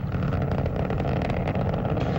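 Space Shuttle Atlantis on its final launch, three liquid-fuelled main engines plus boosters lifting 4.5 million pounds toward orbit: a steady, dense, broadband roar that holds loud and unbroken throughout.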